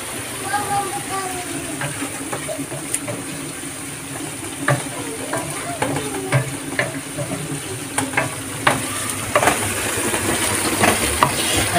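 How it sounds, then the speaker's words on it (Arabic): Kofta meatballs fry in hot oil with a steady close sizzle and crackle, broken by scattered pops and occasional stirring clinks, with a voice talking faintly in the background. "دابا غادي طيب تتحمر وتولي كلها زيت"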